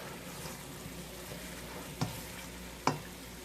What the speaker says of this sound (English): And I'm also going to put some garlic in here. Stir that up.